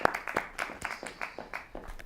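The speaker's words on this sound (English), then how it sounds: "Can you give a round of applause, please?" Scattered audience clapping at an arts talk, a handful of hands striking in a loose, uneven rhythm, fairly faint and thin rather than a full ovation.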